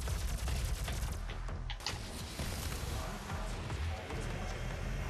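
Rapid plasma rifle fire in the DOOM video game, a dense stream of energy shots running almost continuously under loud game noise, with a brief lull partway through.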